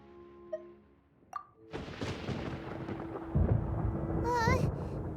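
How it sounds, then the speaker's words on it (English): Thunder in the video game Genshin Impact: after a few soft tones, a deep rolling rumble swells and continues loudly, building to a heavier crash, with a brief chirping game effect near the end. "Paimon hears thunder!"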